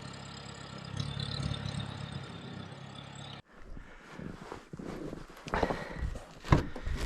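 The cold Cummins diesel engine of a Sherp all-terrain vehicle idles with a low, steady rumble in winter. The engine is quiet and is heard for only the first few seconds. Scattered knocks and footstep-like sounds follow.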